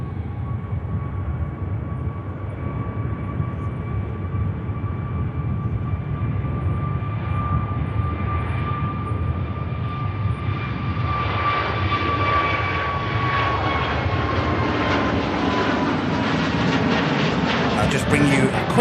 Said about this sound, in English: we'll get the Pegasus departing